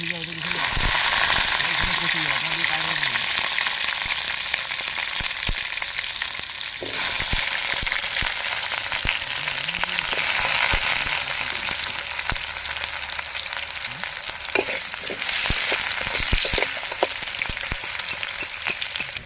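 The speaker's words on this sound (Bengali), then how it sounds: "আলু ভাজার জন্য দিয়ে দিলাম" Potatoes frying in hot mustard oil in a wok give a loud, steady sizzle throughout, with occasional stirring scrapes and brief low background voices.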